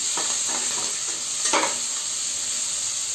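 Cashews frying to golden brown in a pan for coconut rice give a steady bright sizzle, with a few soft spoon stirs near the start and one louder scrape midway, close and alone.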